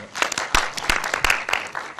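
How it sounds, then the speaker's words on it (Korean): An audience claps at a post-screening talk for the 1999 film Bee Flying. A short burst of dense, crisp hand claps comes through, with voices mixed in. "분들께 박수 주세요."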